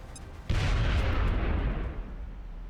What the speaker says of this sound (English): which is called grenade. Going out.